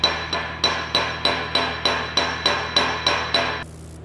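Steady hammer strikes peening a weld bead on cracked tool steel, eleven sharp metallic blows in an even rhythm about three per second, loud and close over a constant low hum from the welding shop.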